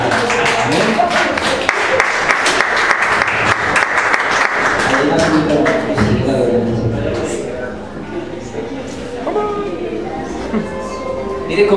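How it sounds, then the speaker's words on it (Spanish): Congregation applauding in a church, loud sustained clapping for several seconds that fades into voices and background sound while people talk. "denle un aplauso al Señor por ella"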